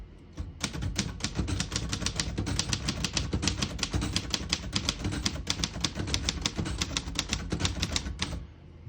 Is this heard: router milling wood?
no